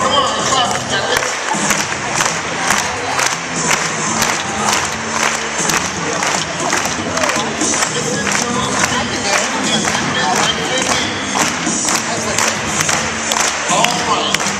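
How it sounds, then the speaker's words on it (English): A conference audience at a keynote claps along in a steady, driving rhythm, loud and continuous, with crowd voices and shouts mixed in over the beat. "Oh, come on, clap, you got it."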